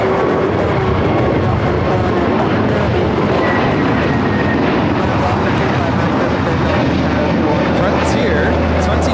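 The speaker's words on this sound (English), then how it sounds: "Frontier 2342 taking off to Denver, Colorado on the A321neo" A Frontier Airbus A321neo taking off at LAX bound for Denver, a loud continuous jet roar that stays steady throughout, with people talking over it.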